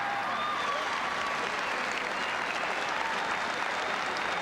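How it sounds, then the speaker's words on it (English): Stadium crowd at a 1988 rugby league match between Manly and Cronulla applauding as player Burke leaves the field, a dense, continuous roar of clapping and cheering that holds steady throughout. "Now listen to the applause as Burke comes off"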